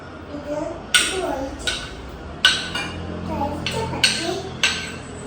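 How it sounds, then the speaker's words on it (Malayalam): Thick homemade cow's-milk curd poured into a dish, heard as a string of sharp clinks and taps of utensil on dishware, about six distinct knocks spread over a few seconds, close and fairly clear against soft room noise. "പശുമ്പാലിനകത്ത് ഉണ്ടാക്കിയ കട്ട തൈരാണ് ഞാൻ ഇതിനകത്തേക്ക് ഒഴിക്കുന്നത്"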